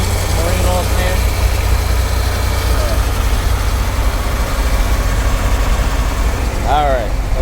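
A Sea Ray 210 Monaco boat's engine idles out of the water with a new marine alternator fitted, a steady low rumble running throughout while a person talks over it nearby.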